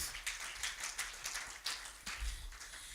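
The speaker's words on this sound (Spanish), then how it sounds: "Puede darle un fuerte aplauso al Señor en esta hora." A church congregation claps in a loose burst of applause, sharp individual claps close by against a softer spread of hands, quiet overall and with no talk.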